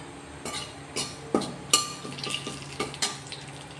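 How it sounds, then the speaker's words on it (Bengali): Cinnamon and a whole bay leaf frying in hot oil, a soft sizzle punctuated by several sharp clinks and scrapes of a spoon against the pan, close by. "এই গরম তেলের উপরেই অল্প একটু দারুচিনি ফোড়নে দেবো, আর একটা তেজপাতা গোটা দেবো।"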